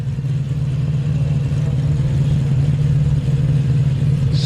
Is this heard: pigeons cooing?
no